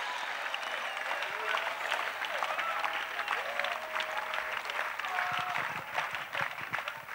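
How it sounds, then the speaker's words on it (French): A church congregation clapping in praise during a worship service, a steady, dense wash of applause sustained throughout, with a faint voice and some music underneath. "Clap for Jesus Christ."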